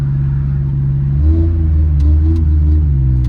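A Nissan Hardbody truck's engine with a faulty throttle rumbles loudly up close, then rises in revs and wavers unevenly instead of settling back cleanly.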